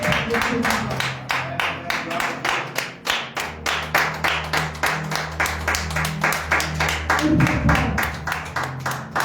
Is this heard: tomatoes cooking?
no